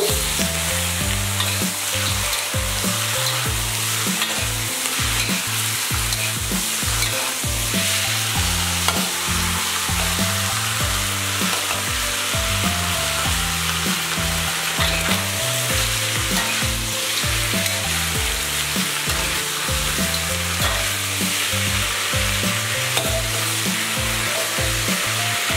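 Duck meat stir-fries in a wok with cinnamon, star anise and bay leaves, sizzling loudly and continuously with the rhythmic scrape and toss of stirring throughout.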